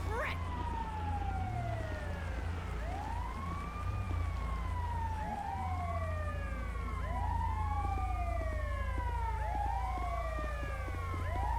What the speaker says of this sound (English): what's up with all these sirens, man?